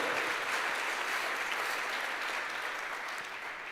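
Sustained, dense applause from a church congregation, steady and loud throughout, easing slightly toward the end with no voices over it.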